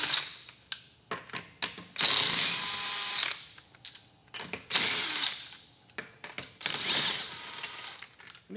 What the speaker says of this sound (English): I'm just going to use my 1/2-inch impact gun